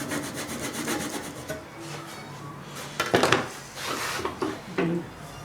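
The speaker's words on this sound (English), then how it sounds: "always just take a saw" A hand saw cuts a small flute along a wooden dowel, making short, rasping back-and-forth strokes, close and fairly quiet, with a few uneven pauses between bursts.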